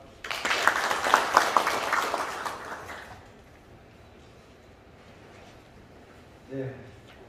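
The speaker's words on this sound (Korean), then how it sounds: "여러분 따뜻한 박수로 맞습니다." A seminar audience in Gumi applauds to welcome a National Assembly member giving the opening address, a dense burst of clapping for about three seconds that fades into quiet room tone, with a brief soft sound near the end.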